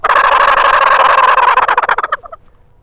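A hand-operated turkey call imitates a gobble: a loud, rapid rattling burst that holds strong, then breaks into a few quick fading gobbles and trails off, close and alone.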